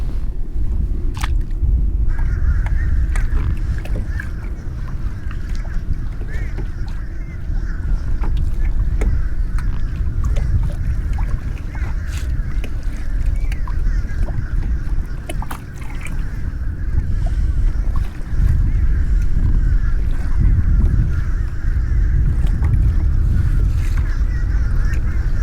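A fishing boat trolls past on the water, its low motor rumble steady and fairly close throughout, with wind noise and occasional faint bird calls in the background.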